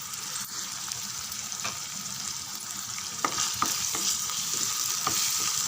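Sliced onion and green chillies splutter in hot oil, a steady close sizzle with occasional sharper crackles and stirring clicks, with no voices.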